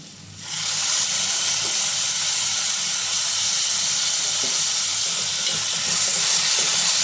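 Ginger garlic paste sautéing in a pan over onions for black pepper chicken gravy, giving a loud, steady broadband sizzle and hiss that starts after a brief quieter moment and continues unbroken, with no talk.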